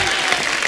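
Dense audience applause at a comedy show taping, a steady wash of many hands clapping with a faint crowd murmur, loud and continuous throughout.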